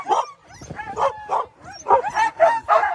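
Eager sled dogs bark, yip and whine in repeated bursts at the start area of the Vercors Quest race, loud and close, several voices overlapping with short pauses between.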